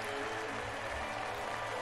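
Crowd applause from a scene in the period drama Queen Charlotte, a steady wash of clapping hands that fills the whole moment at moderate level with no voices over it.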